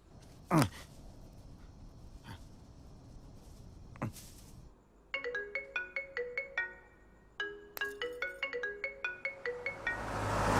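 An incoming-call ringtone plays as a bright repeating melody in two bursts, close and clear, after a couple of sharp sweeping sounds, with no talk over it.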